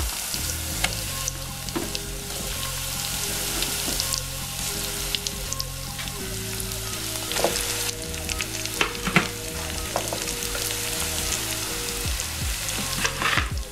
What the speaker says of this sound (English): Right, so I'm going to add my chops now.